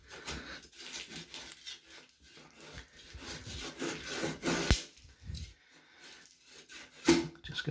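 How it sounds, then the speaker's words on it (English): A blade sawing and scraping through silicone sealant along a shower door edge, heard as close, uneven rubbing and rasping strokes with a few sharper scrapes, no talk. "I can now start to put some pressure on the silicone as I'm actually trying to cut it with the blade"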